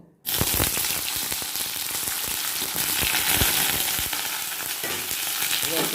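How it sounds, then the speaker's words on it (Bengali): Eggplant pieces drop into hot oil and start frying, jumping from near silence to a loud, dense, crackling sizzle that holds steady with fine spattering pops. "এখন বেগুনগুলোকে ভেজে নেব"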